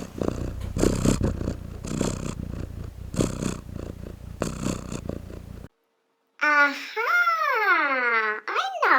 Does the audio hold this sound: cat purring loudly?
yes